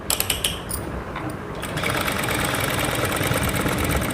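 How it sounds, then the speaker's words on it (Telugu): Sewing machine stitching along the side of a hand-sewing piece, starting with a few quick taps and then running steadily with a close, buzzing mechanical whir. "ఇప్పుడు ఇలా మనం కుట్టేసుకుంటూ రావాలి"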